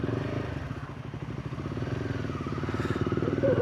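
A motorbike engine chugs steadily while being ridden, a close, rhythmic low throb that builds slightly in loudness, with faint rattling and no voices.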